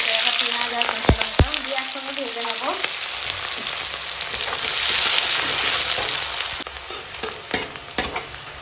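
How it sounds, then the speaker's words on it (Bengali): Onions and green chilies sizzle steadily in hot oil while a utensil stirs and scrapes the pan, with occasional sharp clinks. "পেঁয়াজ কাঁচা লঙ্কা এরকম সুন্দর করে ভাজা হয়ে গেছে"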